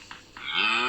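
A cow mooing in the Minecraft One Block Skyblock game, a short game sound effect: a couple of brief low calls followed by a longer, louder bellowing moo, heard alone without talk.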